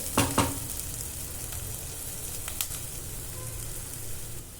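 Onions and green chilies fry in oil for a Telangana-style egg garlic curry, a soft, continuous sizzle with a couple of sharp utensil knocks near the start and one more midway.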